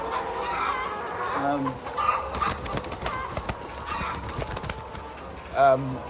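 Chickens cluck steadily throughout on a poultry farm in Ghana, a busy flock close by with a louder squawk near the end, and a voice speaks briefly over the birds.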